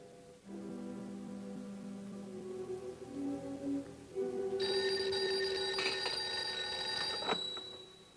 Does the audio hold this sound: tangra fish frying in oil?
no